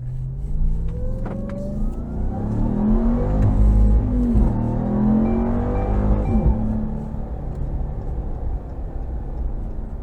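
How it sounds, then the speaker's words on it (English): 2022 Dodge Ram 1500 TRX pickup driving on a road, its engine a deep, loud rumble that swells as it accelerates midway and then settles into steady cruising, heard from inside the cab without talk. "go ahead and take this TRX out on the road for a quick test drive"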